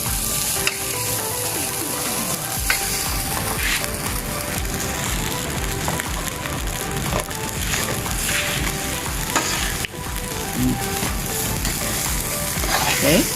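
Garlic fries in a pan, giving a dense steady sizzle close by, broken by scraping and clinking as it is stirred.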